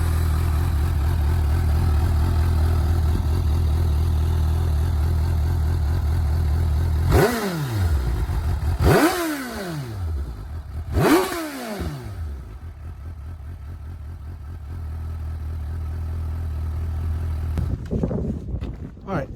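A 2019 Suzuki GSX-S750 motorcycle with a carbon exhaust idles close by, then gives three quick throttle blips that rise and fall at roughly two-second intervals before it settles back to a lower rumble.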